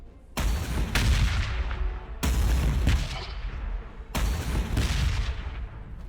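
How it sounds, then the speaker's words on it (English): Basilisk artillery barrage in Warhammer Battlesector: three heavy booming salvos, each a sharp crack followed by rumbling impacts and decaying echoes, spaced about two seconds apart and heard alone. "But if I do barrage now"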